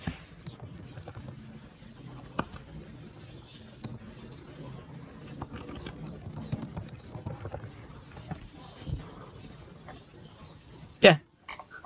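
A computer keyboard typing a search gives scattered soft, close key clicks across the stretch, with a sharper clack near the end and faint voice in the background.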